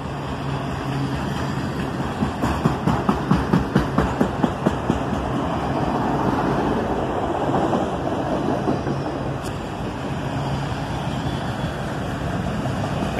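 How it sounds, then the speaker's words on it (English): Freight cars on a loaded coal train roll by at track speed, a burst of rhythmic clickety-clack over the joints giving way to a steady rumble and high ringing of the singing rails. "You can hear the rails starting to sing here as he gets up to track speed."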